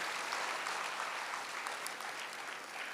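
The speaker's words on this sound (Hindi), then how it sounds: "आप सभी के लिए सब जोरदार तालियां सभी के लिए" A seated crowd of pilgrims gives sustained, even applause at a temple gathering, continuous clapping with no talk throughout.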